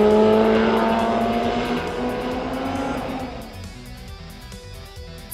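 A car laps a race track on Toyo Proxes R888R Drift tires sized 275/35R18. The engine note is loud and sustained, its pitch sliding lower as it runs, then it drops back to a quieter, steady drone.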